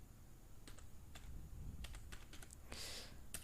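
Typing on a computer keyboard, a run of quick, irregular key clicks with brief pauses, close and clear over a low steady room hum, with no talk.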